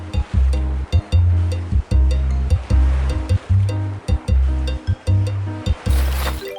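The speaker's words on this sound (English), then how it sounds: "Listening to the waves of the sea is very relaxing." Sea waves wash onto a beach in the video game Evering, a steady run of loud, rhythmic surges that rise and fall roughly every half second, ending in a brighter hiss of spray.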